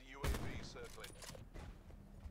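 Gunfire in the Call of Duty Black Ops 4 multiplayer video game, a sharp loud shot followed by several quicker bursts and mechanical clatter, fading into quieter game ambience.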